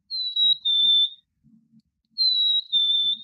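A squeezed toy chickadee gives a high, clear two-note whistle, falling slightly in pitch, twice in succession with a short pause between, squeaky and toy-like.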